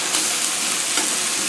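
Sausage fries in a pan with a loud, close, continuous sizzle and crackle, the texture shifting slightly as it is stirred, no talking.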